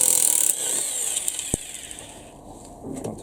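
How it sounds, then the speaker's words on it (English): Clutch bolts come off a Honda Civic EF engine under a tool with a high whine, with one sharp metallic click partway through, then quieter ratcheting and handling noises. "I'm just going to take off these clutch bolts"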